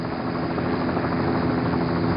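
A recovery helicopter hovers during the Apollo 11 astronaut pickup, its steady loud rotor drone and engine whine filling the whole stretch without a break, with no voices over it.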